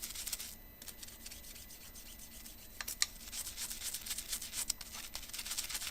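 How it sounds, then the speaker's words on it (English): Brush scrubbing foaming cleaning solution over soldered glass, a steady soft rasping rub with a few sharper scratchy strokes, close and continuous at moderate level. "Start scrubbing it, right? You'll see it foam up real nice."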